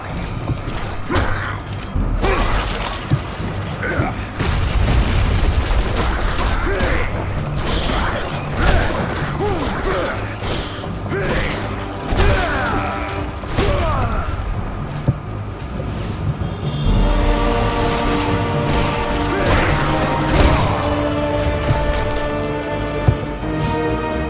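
Explosions and crashing debris from bombs going off in Castlevania: Lords of Shadow, a run of loud impacts, rattles and clanks with a mechanical grinding tail, no speech over it.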